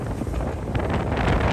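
Strong wind buffets the microphone on a car and bus ferry sailing from Cebu in rough seas at the edge of Typhoon Noru, a steady broadband roar with gusting swells and no voices.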